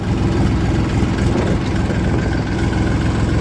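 A tractor engine idles close by, a loud, steady low rumble with a constant throbbing drone and no change in revs.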